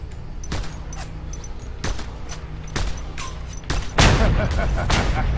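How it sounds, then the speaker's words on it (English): Gunfire in Just Cause 2 crackles in repeated loud bursts over a constant roar of game noise, with the heaviest volley near the end, while a player's voice is heard in between. "You stop shooting me!"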